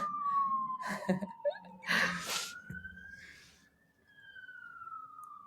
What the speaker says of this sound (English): apologies if you can hear police sirens